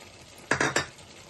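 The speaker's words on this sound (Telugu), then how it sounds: "మధ్య మధ్యలో కూర ఇలాగా కలుపుకోవాలి, అడుగు పట్టకుండా" A spoon scrapes and knocks three times against a pot of prawn and chana dal curry as it is stirred. The strokes are short, close and clear over a quiet background.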